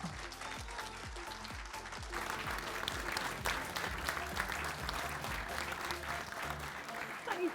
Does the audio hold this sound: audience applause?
yes